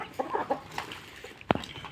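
An Aseel rooster clucks a few short times nearby, ending in one sharper, louder cluck, against a faint outdoor background.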